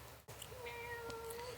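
A pet cat named Ronnie gives a clear, close meow with rising and falling harmonics, following a short break in steady background noise; nobody speaks over it.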